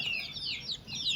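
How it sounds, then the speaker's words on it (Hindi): A group of roosters and hens clucks softly at close range, a brief run of quiet, warbling calls with no talking. "ये हमारे पास जो मुर्गा मुर्गी का ग्रुप है"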